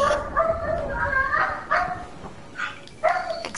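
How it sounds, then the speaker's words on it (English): Dogs bark and yip in short, irregular bursts in a home, some whining, heard over a gaming voice chat with people talking. "Gio, can you tell your dogs to please be quiet?"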